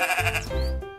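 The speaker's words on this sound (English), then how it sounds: "their gentle bleats mingling with the rustle of the evening breeze" A goat gives a single close, loud, wavering bleat lasting about a second, alone without speech.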